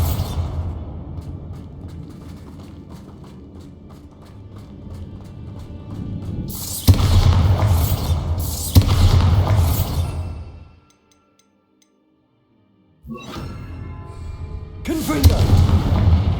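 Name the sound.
Bombarda blasting spell explosion in video game Hogwarts Legacy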